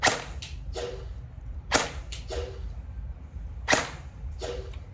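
A Classic Army MP5A3 airsoft gun fires over a chronograph in three separate shots, each a sharp crack followed by quick clicking echoes, close and evenly spaced in a quiet room.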